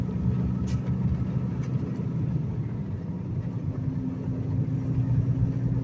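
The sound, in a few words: road traffic passing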